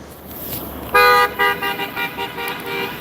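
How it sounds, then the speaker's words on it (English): Car horns honk several times in quick bursts amid passing traffic on a busy street by a prison during a correctional officers' strike, loud and close, with a long blast followed by shorter toots. "A lot of traffic going by here on Davis. Horns, constant."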